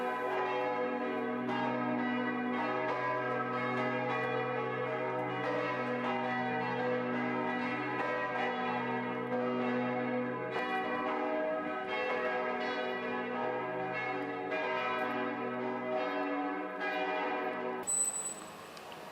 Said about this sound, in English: The oldest bells date from the beginning of the 13th century and are amongst the heaviest.